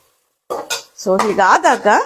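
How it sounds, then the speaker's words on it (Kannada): A traditional Karnataka tempering fries in a pan and is stirred with a utensil, giving quick metallic clinks and scrapes right up close while a person talks over the cooking. "ಈ ರೀತಿ ಚೆನ್ನಾಗಿ ಫ್ರೈ ಆಗಬೇಕು"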